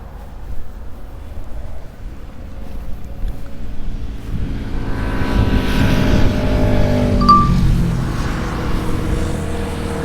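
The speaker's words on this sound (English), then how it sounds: "There is a ton of motorcycles out today." Engine roar swells as motorcycles pass by, building from a distant rumble to a loud, close pass before easing off.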